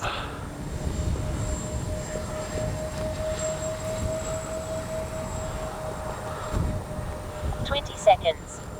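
A Freewing 64mm A-10 radio-controlled model jet making a flying pass, its steady engine whine running throughout under ongoing outdoor talk, with a few sharper sounds near the end.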